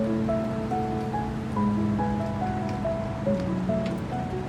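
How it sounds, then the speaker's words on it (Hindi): A steady roar of heavy rain falling in America, loud and unbroken, with faint sustained tones running underneath. "खूब बारिश हो रही है"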